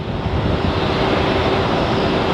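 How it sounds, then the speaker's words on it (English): A small airplane at Phoenix Sky Harbor airport gives off a steady, loud broadband engine roar that holds constant throughout, with no talk over it. "this is such a cool little plane"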